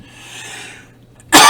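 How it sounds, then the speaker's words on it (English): After a quiet stretch of faint hiss, one loud, harsh smoker's cough bursts out close by near the end. "It's a smoker's cough."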